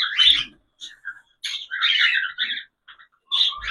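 Pet birds being fed rice squawk and chirp in short, bright bursts separated by brief pauses, close by and with no voices.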